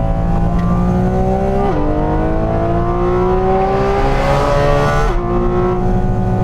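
A 2022 Porsche 718 Cayman GT4 RS engine screams at high revs, climbing steadily through the gears with two sharp shifts, loud and close on a racetrack.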